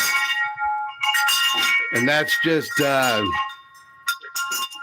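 Wind chimes made of galvanized steel pipe hang on a front porch and ring with sustained, shimmering metallic tones while someone talks over them.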